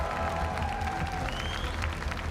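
An esports crowd applauds champions at the Riyadh Masters, a steady, distant wash of clapping filling a large arena without letup.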